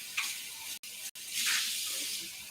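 A milk frother rinsed under a running tap gives a steady hiss of water splashing, broken by two brief cut-offs, and then surges louder again at close range with no talking.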